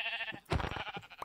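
A Minecraft sheep bleats once, a short, loud, wavering baa close by, heard alone over a faint steady background hum with no talking.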